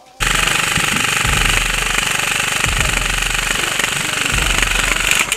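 Krytac airsoft LMG firing one long sustained burst, a rapid mechanical rattle starting abruptly and running about five seconds, loud and close, alone with no talk.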